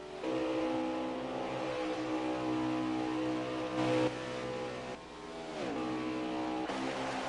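The No. 75 pickup truck races past on the Talladega superspeedway, its engine a loud, steady high-pitched drone that swells and then falls as it goes by, with more motor noise continuing behind it.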